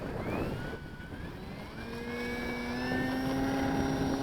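An Eflite 2.1 m Carbon Cub SS RC plane on its maiden flight takes off without flaps at about half throttle. A steady electric motor whine holds and slowly climbs in pitch over a constant broadband rush, alone with no talk.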